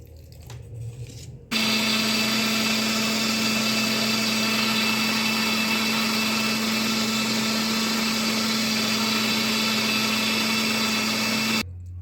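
An electric grinder runs at a loud, steady whine with a constant buzzing hum as it grinds soaked rice with a little water for pitha. It starts abruptly after a quiet moment and cuts off near the end.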